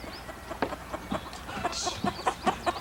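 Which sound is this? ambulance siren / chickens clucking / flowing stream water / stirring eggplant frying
chickens clucking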